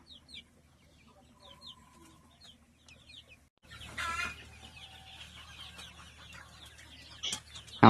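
GST chickens around 600–700 grams cluck in scattered short calls, soft at first and then over a louder background hum, with a sharp cluck close by at the end.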